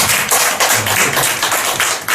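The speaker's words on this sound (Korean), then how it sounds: "우리 박수 한번 해드리십시오" A Korean church congregation breaks into loud, close applause during a sermon, a dense burst of many hands clapping steadily with slight surges and dips over its short span.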